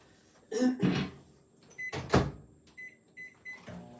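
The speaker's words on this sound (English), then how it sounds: "let's stick that back in the microwave." A microwave oven reheating marshmallow Rice Krispie treats gives a few bursts of clunks and door-like thumps followed by short electronic beeps. No one speaks over the sounds.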